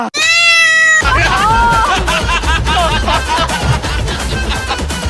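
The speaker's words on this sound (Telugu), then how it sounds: "కాళ్ళుగాల్ని పిల్లి తిరుగుతాందిరా" A cat meows loudly and close in one drawn-out, wavering cry at the start, followed by busy overlapping voices and further meow-like calls.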